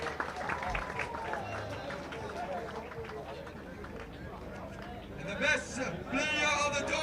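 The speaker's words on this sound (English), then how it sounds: "Est-ce qu'on peut l'applaudir s'il vous plaît? Très très fort." Crowd at a rugby sevens tournament in Mauritius applauds the top try scorer, a broad patter of clapping under announcer talk and babble, swelling into louder cheering toward the end.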